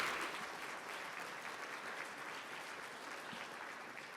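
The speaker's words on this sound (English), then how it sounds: "Round of applause for all of you for those wonderful donations." Audience applause at a charity event thanking donors: steady, fairly faint clapping that is fullest at the start and slowly thins.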